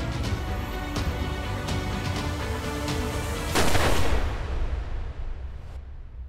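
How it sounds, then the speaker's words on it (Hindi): Loud gunfire with sharp repeated cracks over a dense rumbling background, then a heavier blast-like burst, no speech. "आज मुझे गोली चलाने पर मजबूर मत कर पाठक"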